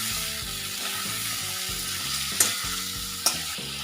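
Chopped carrots and capsicum sizzle in a pan as they are stirred, a close, steady frying hiss with two bright utensil clinks against the pan and a low tonal hum beneath.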